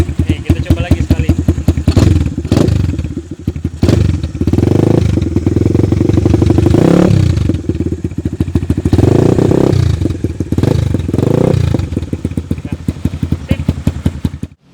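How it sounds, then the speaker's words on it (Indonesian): Viar Cross X 200 ES motorcycle from 2019 revving hard through its loud stock exhaust, a rough, pulsing engine note that swells repeatedly in several strong rev bursts, close and loud throughout, with people talking over it. "tapi ini gila, kenceng banget suara knalpot standarnya."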